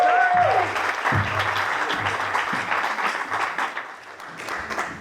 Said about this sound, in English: clap it up for our panelists